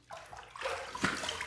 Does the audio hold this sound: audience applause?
no